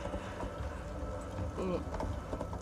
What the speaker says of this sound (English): Horse is moving.